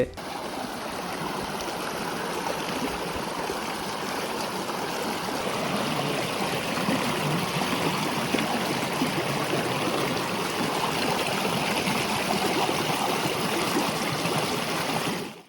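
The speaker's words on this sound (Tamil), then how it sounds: "இப்போ தண்ணீர் அதிகமானதுனால அடைப்பு உடைச்சிக்கிட்டு தண்ணீர் வேகமாக வெளியேற ஆரம்பிச்சிட்டு" River water surges out through a broken dam barrier, a steady broadband rush that holds evenly for the whole stretch, close and continuous with no talk over it.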